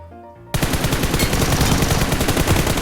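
Rapid automatic gunfire in a battle royale shooter game erupts after a short quiet moment, then continues loud and sustained to the end.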